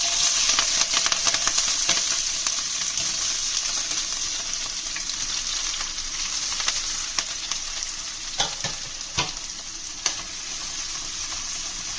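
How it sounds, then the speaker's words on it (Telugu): Chopped onions and green chillies fry in about two spoons of hot oil for a small-fish masala curry, giving a steady bright sizzle throughout with scattered stirring scrapes and a few sharper crackles near the end. "ఆయిల్ వేడెక్కాక ఉల్లిపాయలు, పచ్చిమిరపకాయలు కట్ చేసి పెట్టుకున్నాను, అవి వేస్తాను."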